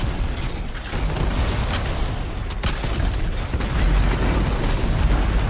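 Anthem's melee Colossus throws blasts and fire attacks in a dense, continuous wash of booming explosions, crackling bursts and mechanical rumble that stays loud throughout with no quiet gaps.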